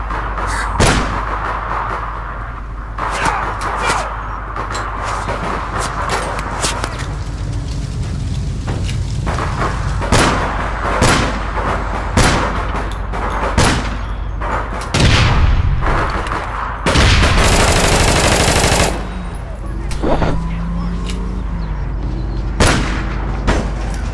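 Gunfire in the online shooter game APB Reloaded: scattered sharp shots and booming bursts crack out irregularly over a dense, rumbling background, with one long loud burst near the middle.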